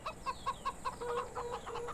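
Chickens clucking in a chicken yard of a farming video game: a steady run of short, rhythmic clucks at moderate distance, fairly quiet over a faint constant hiss.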